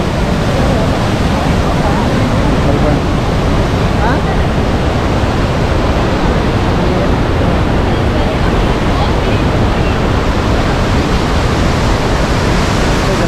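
A loud, constant roar of water rushing through the opened gates of KRS dam fills the whole stretch, close and unbroken, like a torrent surging through an opening.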